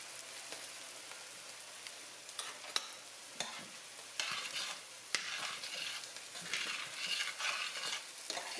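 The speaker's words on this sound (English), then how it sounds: "Getting all that brown off the bottom." Spoon scrapes and stirs across a sizzling pan bottom loosening browned bits, irregular scraping strokes and clicks over a constant frying hiss, close up with no talk.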